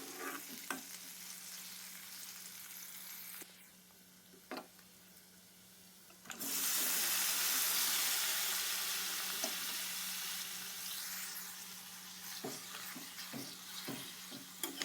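Mutton added to a pan of fried onions and ginger-garlic paste, with soft sizzling and stirring clicks that rise to a loud, sustained fry before easing back under more spatula taps.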